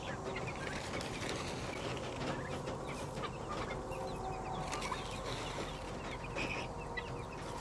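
Guinea fowl and turkeys cluck steadily in a farmyard, a dense, continuous chatter of close birds with no talking.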